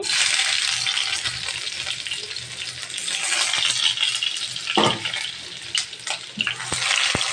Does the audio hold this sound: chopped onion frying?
yes